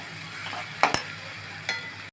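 Egg and eggplant (dim begun) frying in a pan, a steady sizzle with a couple of short stirring scrapes and clinks, close by and moderately loud, no talking.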